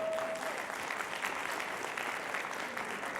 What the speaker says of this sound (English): Can we get applause for that one?